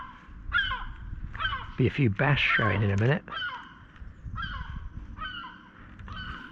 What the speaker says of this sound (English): Distracted by the birds.